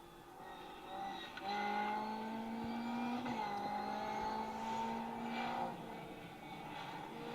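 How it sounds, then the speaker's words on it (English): A historic Mark II rally car passes on a forest stage at an event, its engine note rising and falling loudly as it nears and goes by. "Car 76, Peter Jones, Gareth Davies in their Mark II."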